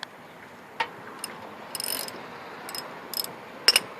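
Ratchet loosening a Toyota Camry brake caliper bolt, a handful of quiet scattered clicks and short metallic ratcheting bursts against faint background noise.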